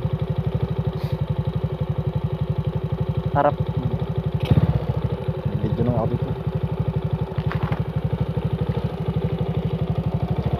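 A motorcycle engine runs steadily at close range through the whole stretch, a dense, even low throb with brief clatters and short bursts of talk riding over it.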